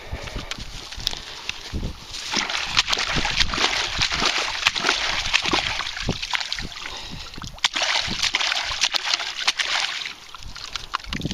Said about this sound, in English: So we'll just wash it in here.